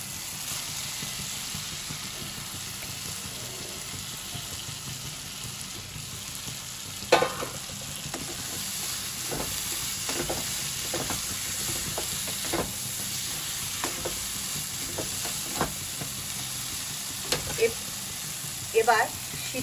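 Fried potato goes into sizzling masala in a pan for Bengali ghugni and is stirred, a constant close hiss with repeated sharp spatula scrapes and clicks that grow busier in the second half.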